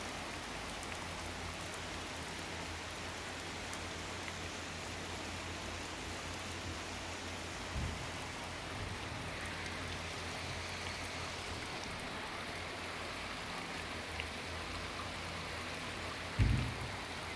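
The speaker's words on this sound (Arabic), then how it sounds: "شوف المطر هذا بهولندا" Heavy rain pouring outdoors in the Netherlands, a dense, even hiss of drops that holds steady throughout, with a couple of faint thumps and no voices.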